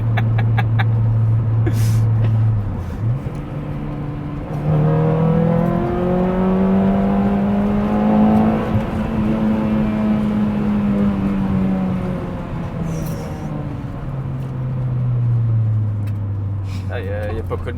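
A 5th-generation Honda Prelude fitted with a JDM engine revs hard, its engine note sweeping up and down in long rising and falling pulls, loud and close, with people talking over it.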